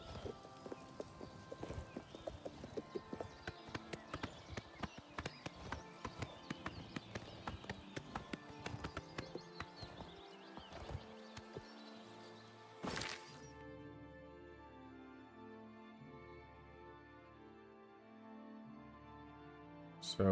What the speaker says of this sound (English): horses don't seem to do that well on terrain